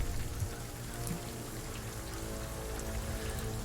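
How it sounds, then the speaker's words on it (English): Steady rain ambience plays as a sound effect during a tabletop game session, a continuous dense patter of raindrops on a surface with no voices. "Where the hell did my rain sound go?"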